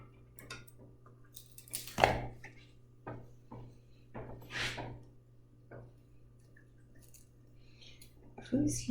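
A plastic knife scrapes and pries stuck bananas off a waffle iron in a series of short, close scratchy bursts and clicks, with soft talk in between.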